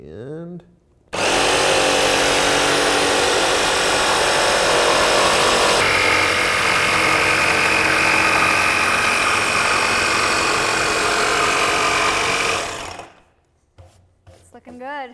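A jigsaw without orbital action cuts through wood in one loud, sustained buzzing stretch, close up, starting abruptly and stopping after about eleven seconds, with brief faint sounds after.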